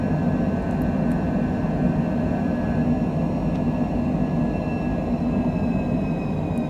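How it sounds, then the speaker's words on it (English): Cessna Longitude business jet in a flight simulator game, taking off from Palm Springs: a steady, loud engine roar with a constant whine holds throughout, unbroken and with no one talking. "We're going to take off on the threshold."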